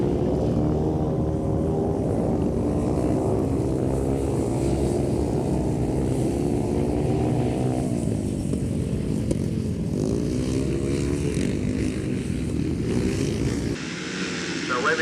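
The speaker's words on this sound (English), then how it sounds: "I think this is without doubt the dirtiest, muckiest and one of the noisiest forms of motorcycle sport." Grass track motorcycle racing with 250, 350 and 500cc machines, engines droning loudly and continuously with rising and falling revs as bikes pass, a commentator speaking over the noise throughout.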